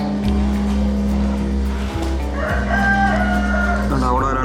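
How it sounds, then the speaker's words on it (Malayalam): A chicken crows once, clear and fairly close, at an open farm in Belfast, its drawn-out call rising over a constant low engine-like hum. "ഇതൊരു കോഴിയാണ്."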